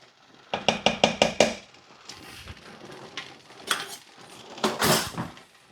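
Sugar being mixed into strawberry jam in a pot, opening with a quick run of about six sharp utensil knocks against the pot, followed by softer scraping and clattering stirs, close and fairly loud.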